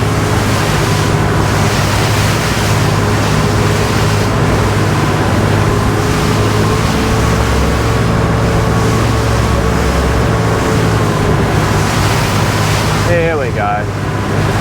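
A SACS 42 motorboat runs over ocean waves, its steady engine drone mixed with constant wind and water rush, loud and close throughout, with a person speaking at points.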